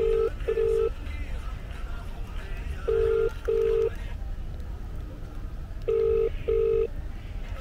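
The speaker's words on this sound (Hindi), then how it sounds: "अरे यार वो वरुण का फोन आ गया था" A phone rings at a nighttime bonfire in the mountains near McLeod Ganj: paired electronic beeps repeat three times at steady intervals over a constant background rumble.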